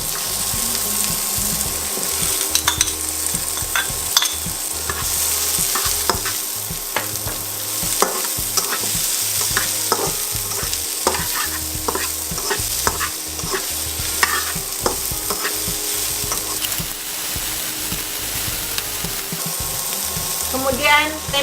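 Chillies being stir-fried in a pan for sambal tumpang, a steady sizzle with repeated scraping and stirring strokes throughout, close and fairly loud, with no talk.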